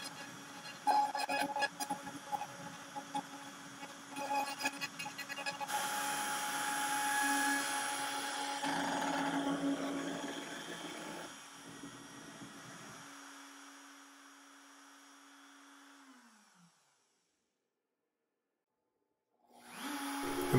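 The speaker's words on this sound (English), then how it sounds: "additional holes are being drilled completely through the covers to allow some light to pass through" A CNC machine drills holes completely through decorative basement window covers: a whining spindle with rattling bursts, a steadier drilling drone that fades and winds down into silence, then the machine starts up again.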